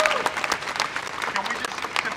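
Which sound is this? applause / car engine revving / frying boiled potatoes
applause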